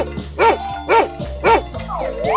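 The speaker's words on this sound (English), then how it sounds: "dog," A dog character in a 3D animal game barks three times at an even pace, each bark short and clear, with a rising electronic game sound at the end.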